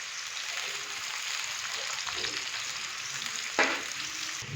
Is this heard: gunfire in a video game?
no